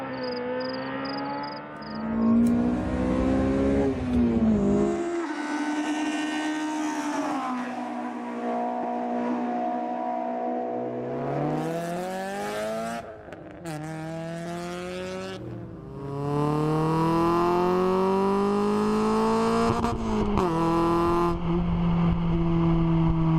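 A 1990 Honda CRX EE8 small sport coupé with a B16A1 engine, revving repeatedly through rising and falling pitches, close and loud, with sustained high-rev pulls and brief drops between them.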